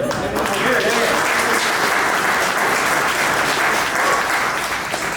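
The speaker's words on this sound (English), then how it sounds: "how about a big round of applause to our hosts" Steady applause from a large crowd fills the room, loud and sustained throughout with no breaks.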